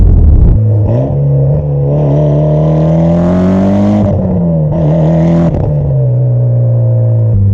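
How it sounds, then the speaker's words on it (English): A Mitsubishi Lancer Evolution X with a Tomei exhaust revs loudly up close, the exhaust note rising and dropping through a couple of throttle blips before settling into a deep, rumbling idle. "you don't have to worry about getting annoyed with the exhaust noise"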